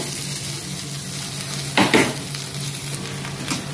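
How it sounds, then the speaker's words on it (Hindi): Potatoes fry with a little ginger garlic paste in a pan, a steady close sizzle with a brief louder scrape of stirring near the middle. "हल्का सा अदरक लहसुन का पेस्ट, अब साथ ही साथ मैं डालती हूँ आलू को।"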